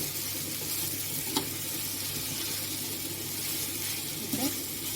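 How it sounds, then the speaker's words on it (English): Greens searing in a hot pan give a steady, close sizzle throughout, with a couple of brief stirring clicks and faint background talk. "We are just going to sear it a little bit"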